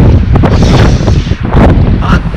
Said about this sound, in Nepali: कस्तो चिसो हावा लागिरहेको यार